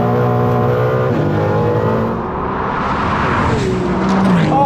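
A Ferrari 296 GT3 race car and a Ferrari 296 GTB road car launch side by side in a drag race, their engines roaring loud and near with rising revs and gear changes throughout.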